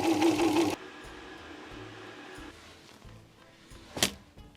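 A home sewing machine stitches a wedding dress in a short, fast whirring burst that cuts out abruptly after under a second. A low hum follows, then a single sharp knock near the end.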